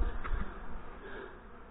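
Yellow jackets buzzing around a mayonnaise-jar trap beside a honey bee hive, a faint, low, continuous insect drone close to the listener with no talk.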